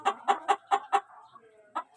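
Chickens crammed into a small pen after a flood give five quick, evenly spaced clucks, then a soft warble and one last cluck, close and clear.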